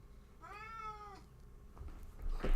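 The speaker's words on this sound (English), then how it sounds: "my cat." A domestic cat gives one clear, drawn-out meow up close, with a scuffle of handling noise just after it.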